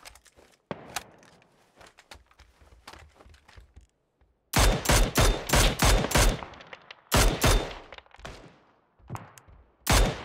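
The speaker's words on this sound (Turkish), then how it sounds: "Nereden sıkıyor lan o? Şuradan sıkıyor." Gunfire in PUBG comes in several sharp bursts of rapid automatic shots separated by pauses, with a few faint distant single shots before the loud, close volleys.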